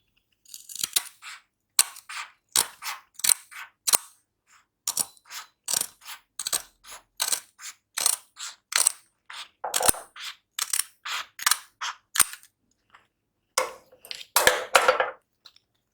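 Scissors cut fabric along a marked line, making a close, crisp series of snipping clicks in an uneven rhythm with short pauses, ending in a denser flurry of cuts.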